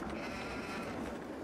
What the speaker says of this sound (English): Looks like we have a sheep farm.